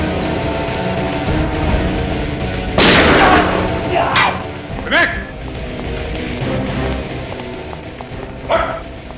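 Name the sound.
gunshot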